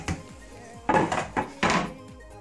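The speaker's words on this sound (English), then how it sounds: "I'm just putting the onions in" Onions tumble into a cooking pot in a home kitchen, giving a few separate clattering thuds and rattles against the pot, loud and close, with short quiet gaps between drops.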